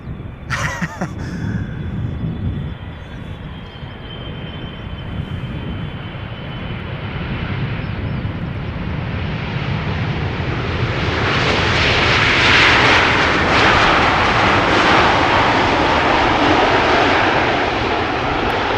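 An Airbus A300 at Schiphol Airport, its engines building from a distant rumble into a loud, broad roar that swells and holds near the end, heard alone without talk.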